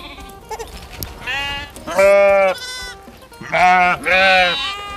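Sheep on a hillside savanna grazing pasture bleat loudly and close by in several long, wavering calls, one after another, with quieter rustling between them.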